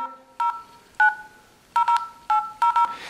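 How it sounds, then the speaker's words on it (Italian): A Motorola Moto E phone dialer plays telephone keypad tones: eight short, clear beeps in uneven groups, some in quick pairs, loud and close against a quiet background. "apriamo prima il dialer di Moto E,"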